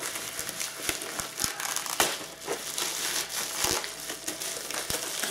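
Crinkly plastic being crumpled and torn, with sharp crackles and snaps scattered throughout, close up and fairly steady.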